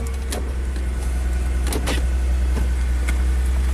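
A Chrysler Crossfire's engine running at a steady low idle hum up close, with a few sharp clicks and knocks over it and no talk.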